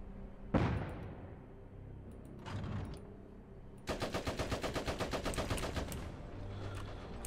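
Video-game gunfire in a tank battle: a single sharp shot, a quieter burst, then a fast, evenly spaced machine-gun volley rattling for several seconds, loud and close with no talk over it.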